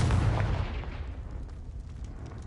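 Confringo fire spell cast in Hogwarts Legacy, a loud booming blast that decays into a rumbling, crackling tail over a couple of seconds, with no voices.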